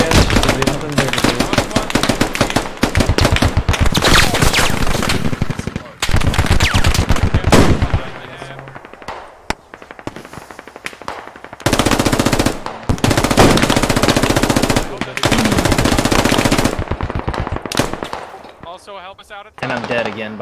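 Rapid automatic gunfire in a squad-based shooter video game, loud dense bursts repeating in long stretches with short gaps between them, with game sounds throughout.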